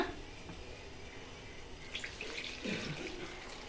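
Water pours and splashes into a cooking pot at close range, a steady rushing stream with gurgling near the end.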